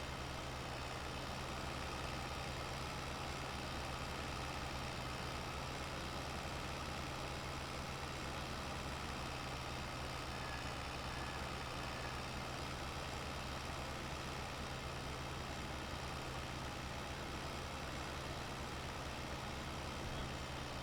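A 690 tractor engine idling, a steady low droning rumble with a constant hum, unchanging and alone throughout.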